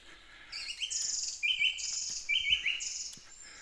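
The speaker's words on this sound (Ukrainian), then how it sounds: "Хочу, щоб разом з вами ми почули, як співають солов'ї в лісі." Nightingales sing in a forest in a chorus of bright, warbling phrases and repeated whistled notes, with some calls louder and nearer than others.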